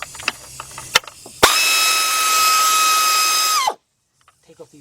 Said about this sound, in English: Let's get our air ratchet and a 10 millimeter.